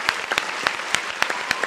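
Applause for horror director Wes Craven during a casual podcast chat about Halloween costumes, heard as a short run of distinct, fairly sparse claps spaced evenly like a few hands clapping in rhythm, close and moderately loud.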